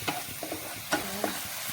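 Salt and turmeric are stirred through a frying pan, giving soft scraping strokes and light clinks of the spoon over a low, steady sizzle, with no voices.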